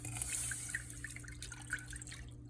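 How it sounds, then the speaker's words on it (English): Water is poured or run into a pot on a kitchen stove while making fettuccine, with soft trickling and dripping over a low background hum, faint and close. "Add the water."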